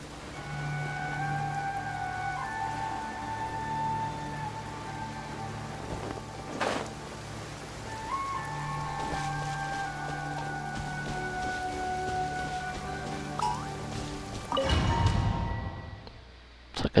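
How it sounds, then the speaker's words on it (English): Steady rain falls in Genshin Impact, a soft continuous hiss lasting throughout at moderate level, with game music tones layered over it and a louder rumbling burst near the end. "Rain. My hair and feathers are gonna get soaked."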